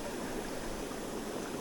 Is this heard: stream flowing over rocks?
yes